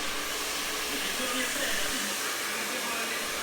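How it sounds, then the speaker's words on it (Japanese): Hair dryer blowing loose cut hair away after a haircut at a barbershop in Italy, a steady, loud, even rushing whoosh that runs continuously throughout. "最後にドライヤーで髪の毛を落としてくれています"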